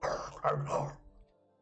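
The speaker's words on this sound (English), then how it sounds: "You hear the sound of something running towards you through the forest, and angry dog-like snarls" Snarling and growling like angry dogs, a short burst of two or three rough, close vocal snarls that fade quickly, as if from dire wolves running through a forest.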